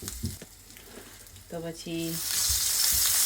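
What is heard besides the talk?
curry leaves and ginger frying in oil for tempering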